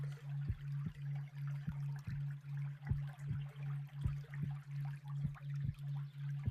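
Water runs and trickles steadily in a quiet room, soft and continuous, with a faint low hum and small regular ticks underneath.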